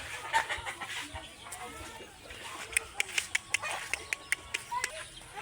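Geese on a rural farm in Leyte, Philippines, give a quick series of short, sharp honks at moderate distance over a quiet outdoor background with faint voices.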